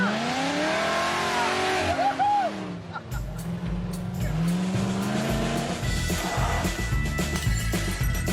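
A supercharged 1975 Jeep CJ5 engine revs hard, its loud, rising and falling roar filling the clip with sharp throttle blips and squeal-like tones, while someone talks over it.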